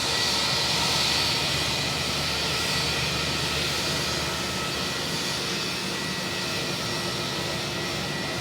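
Jetstar Airbus airliner, twelve years old, taxiing at Hamilton airport in New Zealand, a loud steady jet engine whine and roar heard nearby, continuous for the whole stretch without speech.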